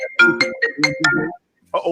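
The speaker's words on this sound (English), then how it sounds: "Somebody ringing." A phone ringtone chirps in a repeating melodic pattern, loud and close, stopping briefly before starting again near the end, during a live talk show broadcast.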